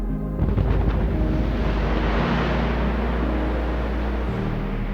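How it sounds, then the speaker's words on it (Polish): A quarry blasting explosion: a deep, rumbling blast roars out and rolls on as a sustained low thunder, loud and continuous with a heavy boom at the start. "W większości przypadków wydobycie zaczyna się od materiałów wybuchowych."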